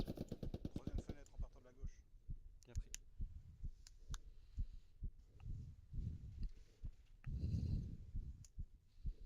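Machine gun fire crackles in a multiplayer military shooter, with a rapid burst of close shots at the start and scattered single cracks after it. Player voices talk over the gunfire throughout.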